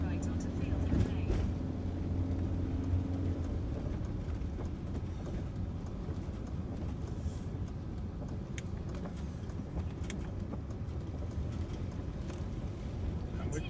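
A car drives over a dam in the Peak District in windy weather, a steady road rumble and tyre noise with wind buffeting the microphone, while people talk inside.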